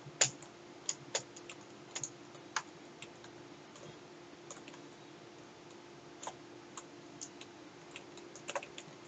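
Scattered, irregular clicks of computer keyboard typing during a PC game session, crisp and close with uneven gaps between keystrokes, over a steady faint room hum.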